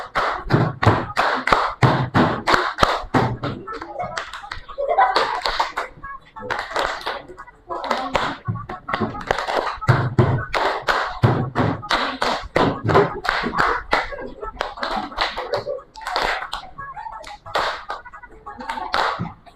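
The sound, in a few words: class clapping hands in place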